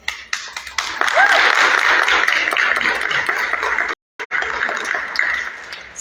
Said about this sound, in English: So a huge thank you and round of applause.